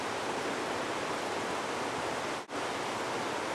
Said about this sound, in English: You can still hear the stream off to my left.